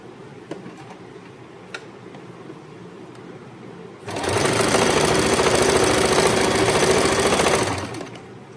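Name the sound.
sewing machine stitching the top of shorts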